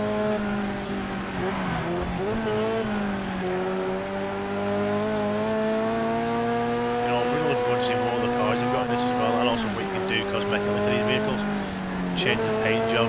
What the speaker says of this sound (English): You just hear the sound of the engine there,